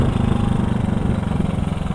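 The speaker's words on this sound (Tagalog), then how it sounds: "Pasensya na kayo sa motor ko at medyo maingay." A motorcycle engine idles loudly and steadily nearby, its rapid, even putter continuing without pause.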